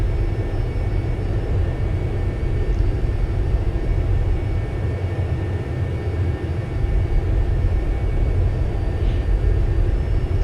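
A Citation business jet in the X-Plane 11 flight simulator runs its engines under added thrust, a loud continuous low rumbling drone, steady and unbroken.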